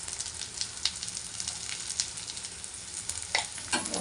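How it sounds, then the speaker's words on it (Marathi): Onion frying in a pan with turmeric added, a steady dense sizzle with a few sharp stirring scrapes and clicks, close and fairly loud, no talking. "कांदा फ्राय होतोय आपल्या इथे"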